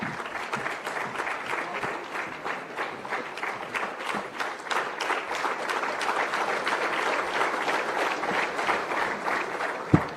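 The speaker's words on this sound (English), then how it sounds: "A round of applause, please" An audience at a public government event welcoming a Chief Minister breaks into sustained applause, with dense, even clapping that carries steadily for about ten seconds with no talk over it.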